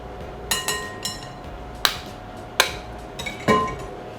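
An egg cracked against a bowl for carrot cake batter gives several sharp taps and clicks spaced over a few seconds, close and distinct against a quiet kitchen background.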